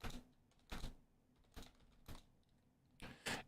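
Quiet keystrokes on a computer keyboard, five separate short clicks and small bursts spaced irregularly, close and faint against low room hum.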